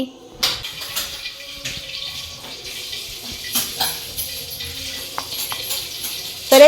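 Kajjaya dough fries in hot oil with a steady close sizzle and bubbling, broken by occasional clinks of a utensil against the pan and a brief bit of talk.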